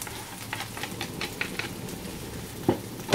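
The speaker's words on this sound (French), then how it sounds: "nous rajoutons les oignons." Sliced onions dropped into a hot frying pan, a faint crackling sizzle with a quick series of light taps and a couple of louder clacks near the end, close and quiet with no speech.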